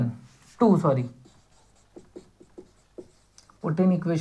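An equation written by hand for a class 10 maths proof on Thales' basic proportionality theorem: soft, short pen or marker strokes tick and scratch between stretches of someone speaking.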